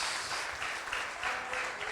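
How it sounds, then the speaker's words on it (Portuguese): A church congregation applauds together in a dense, steady wash of clapping that fills the room at moderate distance, with no break across its two seconds. "dê uma calorosa salva de palmas para Jesus."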